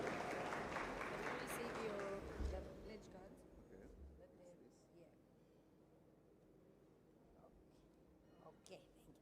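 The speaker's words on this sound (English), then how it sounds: "let's give them another round of applause" Applause at a gala dinner: a short burst of clapping from the seated crowd at the start fades away, while a voice keeps talking over a microphone.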